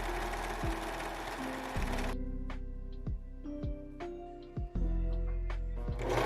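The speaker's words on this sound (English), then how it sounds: "I'm going to be doing some top stitching with a twin needle on my sewing machine" A home sewing machine runs twin-needle top stitching on thrifted knit fabric: a busy motor whir for a couple of seconds, then short stop-start bursts of stitching with clicks and mechanical ticks, close up, without speech.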